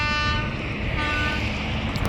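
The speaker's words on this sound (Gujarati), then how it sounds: "ટ્રેન પણ આવી ગઈ છે હવે" A train rumbles past a level crossing steadily with a continuous roar and a sustained horn tone over it, loud and close throughout.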